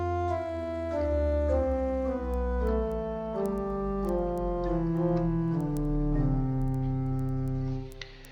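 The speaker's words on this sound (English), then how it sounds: "The 16-foot Bordun adds a much deeper, rich baritone sounds in the background." Virtual pipe organ with a 16-foot Bordun stop added beneath higher ranks, a slow sequence of sustained chords over a deep, steady bass, played alone without talking.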